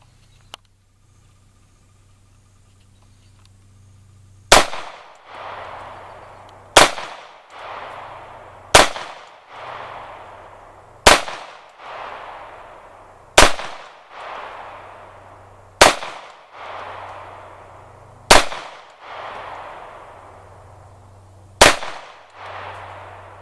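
A Sig Sauer P250 mid-size pistol fires at an outdoor range, eight or so loud, sharp shots spaced a few seconds apart, each trailing a decaying echo over a low background hum.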